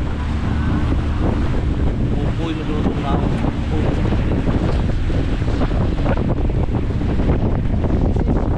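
Wind buffets and sea waves wash steadily around a small boat out on open water in rough weather, a constant loud rush with a voice speaking briefly over it.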